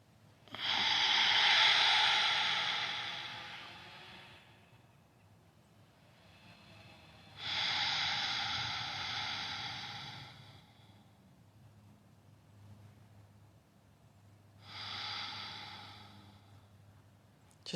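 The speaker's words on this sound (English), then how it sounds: "Just that gentle rhythm of your own breathing." Slow, deep breaths during outdoor yoga, three long airy inhale-exhale swells spaced several seconds apart, close and audible over faint low background hum.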